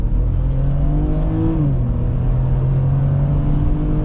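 A BMW X3 3.0i pulls hard at full throttle, its engine note climbing steadily and loud from inside the cabin, with a brief dip as it shifts before continuing to build.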